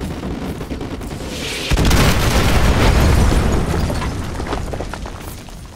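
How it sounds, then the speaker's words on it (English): Artillery strike in Call of Duty: Modern Warfare 2 Remastered, a sudden heavy blast that erupts after a low rumble and keeps booming and rolling for several seconds before slowly fading, loud and close. "Artillery inbound."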